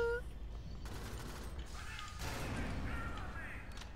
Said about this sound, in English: middle click did a shotgun shot